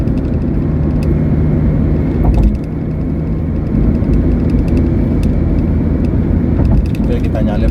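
A car overtakes a heavy tronton truck on the Dumai–Pekanbaru toll road in Indonesia. Loud, steady engine and road drone fills the whole stretch from inside the car, with a voice talking over it.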